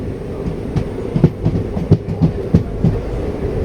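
A passenger train running on the Shoranur to Coimbatore line, with a steady loud rumble from inside the carriage and rhythmic clickety-clack of wheels over rail joints repeating through the whole stretch.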